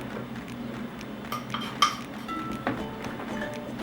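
A utensil stirring a banana dessert mixture in a dish, with soft scraping and a few light clinks and knocks against the container, close and quiet.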